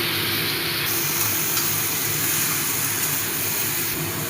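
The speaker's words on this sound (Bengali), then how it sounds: "আমি এবার চাল কুমড়া দিয়ে দিচ্ছি।" Ash gourd pieces hit a pan of frying onion paste and set off a steady, broad sizzle of hot oil that carries on unbroken and fairly loud throughout.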